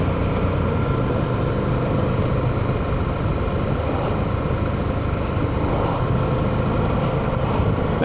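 Honda CTX motorcycle engine while riding on a desert road, a loud, continuous rumbling drone with steady wind rush, unbroken and close throughout, no voices.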